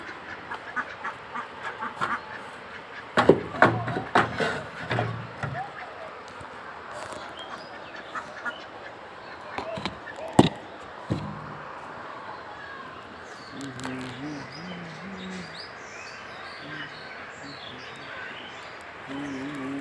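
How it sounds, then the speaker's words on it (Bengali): Pigeon chicks give soft, nasal squeaks and cheeps in scattered bursts, close by. Someone talks quietly, and a few sharp knocks and handling noises come through. "কবুতরের বাচ্চা"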